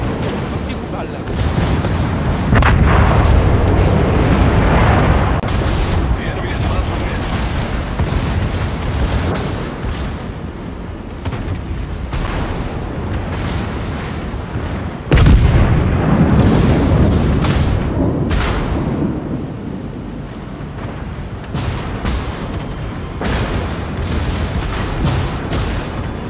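Warship turret guns fire in the World of Warships video game, sending loud booming artillery blasts in irregular salvos over a continuous game soundscape, with a sharp heavy blast near the midpoint and a voice talking at times.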